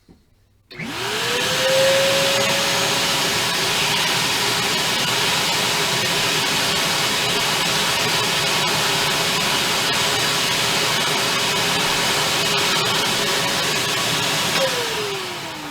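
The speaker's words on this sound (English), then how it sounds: "Set this back, and then I vacuum." A record cleaning machine's motor whirs up to a steady, loud suction drone, vacuuming a vinyl record, and holds it evenly for several seconds before beginning to wind down.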